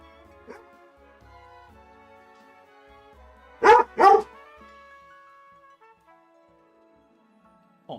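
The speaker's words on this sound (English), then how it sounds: "Don't bark back at me." A dog gives two quick, loud barks in a row near the middle, close to the microphone, with near silence before and after and a faint yelp at the very end.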